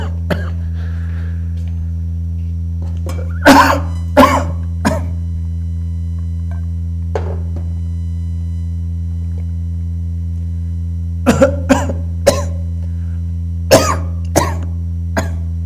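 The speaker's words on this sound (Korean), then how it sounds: "기침을 녹화했네요" Coughs break out in a recorded classroom lesson, a few scattered single coughs early and then tight clusters of two or three sharp bursts later, standing out over a steady low electrical hum with no talking.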